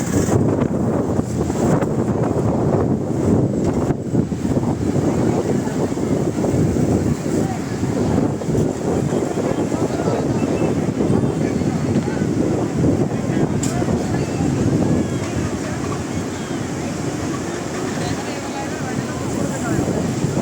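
Strong wind and surging sea waves break at the shoreline around the Baneshwar Mahadev Shivling near Somnath, a steady loud roar with gusty buffeting throughout.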